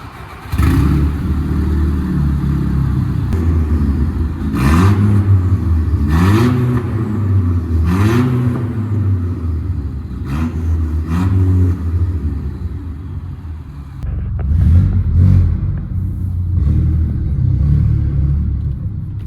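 An Audi A4 engine revs repeatedly in loud, close bursts, climbing and falling between steadier idle stretches, heard alone without talk.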